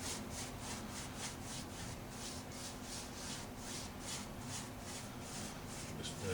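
A cloth or pad rubs back and forth over a surface to spread a coating and wipe it off, in steady rhythmic strokes that are soft and close, with no talking.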